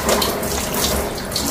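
Water running from a tap in a home kitchen sink as something is rinsed under it, a steady close splashing stream throughout.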